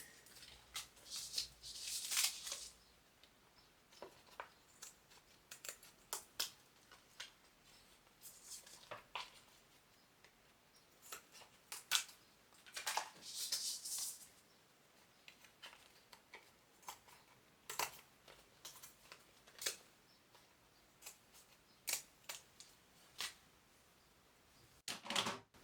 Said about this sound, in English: I'm using the wrong scissors.